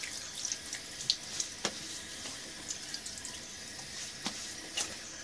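A bathroom tap runs water into a sink during a wet shave, a soft continuous hiss with faint splashes and a few sharp drips or taps scattered over it, fairly quiet and close.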